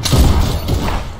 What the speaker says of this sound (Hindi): ये स्नाइपर चली